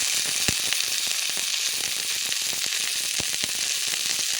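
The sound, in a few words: ginger paste and spices frying in oil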